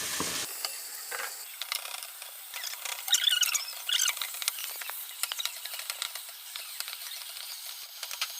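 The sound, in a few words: frying onions with cinnamon and black cardamom in oil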